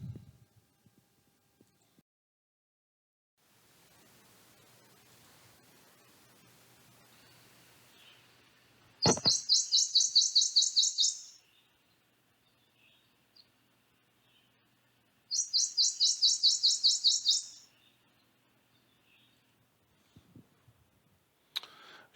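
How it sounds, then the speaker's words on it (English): Two bursts of bright, rapid high-pitched Prothonotary Warbler song, each about two seconds long, separated by quiet with faint background noise. "But this is the Prothonotary Warbler, and they are songbirds"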